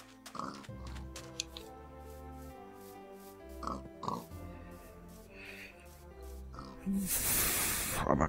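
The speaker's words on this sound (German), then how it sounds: "Schweine hat's hier genug." Pigs grunting and oinking in Minecraft, a few short snorts scattered over soft background game music, ending with a hissing burst.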